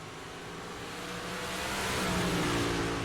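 Race cars in an Outcast 358 event on the Cedar Lake dirt track, engines roaring steadily and building in volume as the pack drives past, with no talk.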